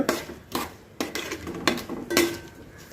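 Sour mango and jaggery are stirred in a pot, a utensil clanking against the metal in about five sharp, uneven strokes, close and clear with no talking.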